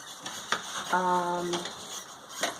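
Thick ugali is turned steadily in a pot on a cooker with a few quick scraping strokes close by. A brief tonal hum sounds partway through.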